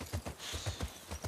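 Horse hooves clip-clopping in The Last of Us Part 2, a quick uneven run of hoof knocks at moderate level with no talk over it.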